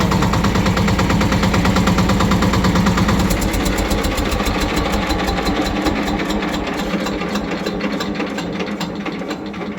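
Loud, close tractor engine idling with a rapid rhythmic clatter, steady throughout and slowly easing off toward the end.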